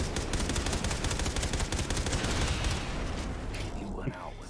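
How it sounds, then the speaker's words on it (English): Continuous rapid gunfire from Far Cry 3 Blood Dragon, a dense run of shots for several seconds that thins out toward the end. "Stop shooting at me, please."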